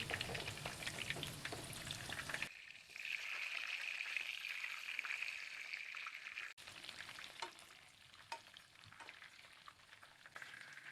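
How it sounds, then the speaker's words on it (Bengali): Marinated chicken frying in hot oil in a frying pan gives a bright, steady sizzle, with a sudden drop in the crackle partway through, then lighter spattering and a few sharp clicks. "এখন মশমশা করে আমি ভেজে নিছি সুন্দর করে, এখন তুলে নেব।"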